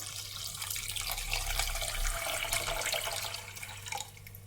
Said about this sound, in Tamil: சீனி எடுத்த அளவுக்கு தண்ணியும் சேர்த்துக்கலாம்.